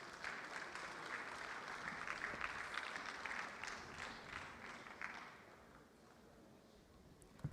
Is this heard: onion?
no